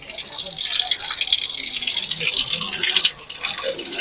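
Spring water at a waterfall flows and splashes continuously at close range, a bright hissing trickle that holds steady throughout.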